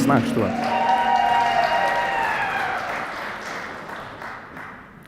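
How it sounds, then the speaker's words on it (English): An audience at a tech startup founders' event breaks into sustained applause, steady dense clapping with some cheering that slowly fades, while a voice carries over it. "a huge, warm, welcoming round of applause for Partly"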